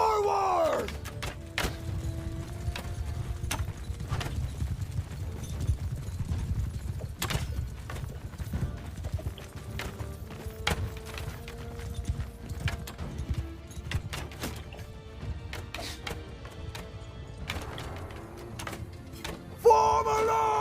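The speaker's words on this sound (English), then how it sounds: "Cavalry! Cavalry charging." Cavalry horses charging in Mount and Blade II: Bannerlord, a continuous rumbling clatter of hooves with scattered distant shouts and cries over the battle din, fairly loud throughout with a sharper burst near the end.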